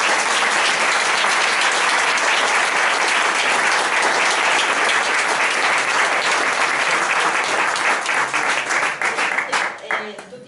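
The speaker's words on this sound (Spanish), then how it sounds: "vamos a aplaudir" An audience at a summer school session on sexuality and functional diversity bursts into sustained, loud clapping that stays dense, then breaks into scattered individual claps before tapering off.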